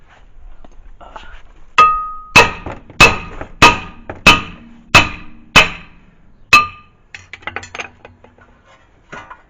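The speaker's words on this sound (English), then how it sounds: "Hammer." Hammer blows on metal during a front brake and rotor replacement on a 2007 Honda Civic, eight sharp ringing strikes in a steady rhythm, then quieter clinks of tools.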